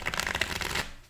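A deck of playing cards is riffle-shuffled up close, a quick rapid flutter of cards lasting under a second, then settling into quiet.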